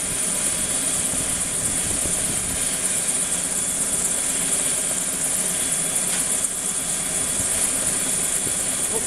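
Inside a heated rescue helicopter flying from Shadow Lake Lodge, a loud, constant engine and rotor roar fills the cabin without letup, with faint voices barely audible beneath.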